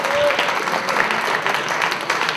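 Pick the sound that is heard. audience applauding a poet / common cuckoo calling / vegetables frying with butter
audience applauding a poet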